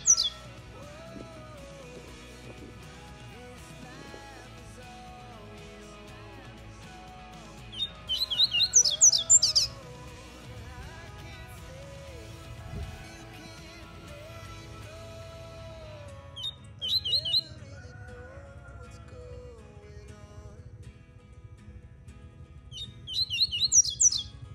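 Small birds, coleiro and papa-capim seedeaters, chirp and trill in repeated bursts, with a few loud, bright song phrases standing out over quieter twittering in the background.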